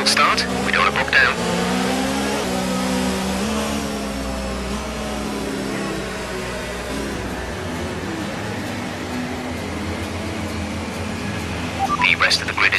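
An F1 car engine in the F1 2019 racing game holding high revs on the grid for a practice start, a loud steady whining drone with shifting pitch throughout, under brief talk at the start and end.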